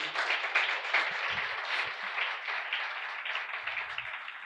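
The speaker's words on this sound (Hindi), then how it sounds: "अगर आप खुश हैं तो तालियां बजाकर बता सकते हैं।" An audience applauding steadily for several seconds, dense crackling claps from a crowd at a moderate distance, at an even level without pause.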